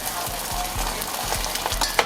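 Spicy Kroger pineapple rum and ginger sauce sizzling in a hot pan while being stirred for honey barbecue wings, a close, steady hiss with rhythmic scraping strokes and a clink near the end.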